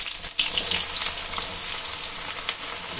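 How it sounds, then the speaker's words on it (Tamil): Fenugreek seeds splutter in hot oil for a garlic kuzhambu, a dense, close, continuous sizzle with fine crackles and no voices. "வெந்தயம் நல்லா பொரிய ஆரம்பிச்சிருச்சு."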